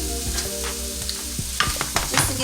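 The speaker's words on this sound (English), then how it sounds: "I'm going to saute these first in a hot skillet" Sweet medallion onions sauté in a hot skillet, giving a close crackling sizzle with quick stirring scrapes and clatter that grow busier toward the end.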